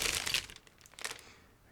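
A plastic bag from a Zvezda 1/35 KAMAZ model kit crinkles and rustles as it is picked up and set aside, two bursts of crackling that fade out, fairly faint and close.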